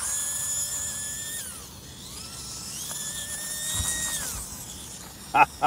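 A souped-up RC car fitted with a PN Racing 90-turn motor whines steadily, its pitch rising and falling as it speeds up and slows, with a few sharp mechanical clicks near the end.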